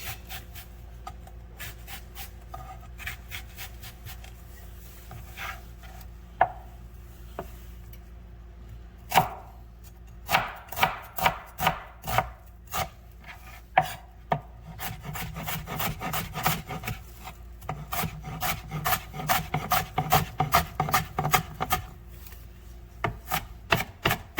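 Onion being chopped with a knife on a cutting board for rice, served alongside deep fried pork chops: sparse cuts at first, then rapid, steady chopping strokes, close and fairly loud, with no talking.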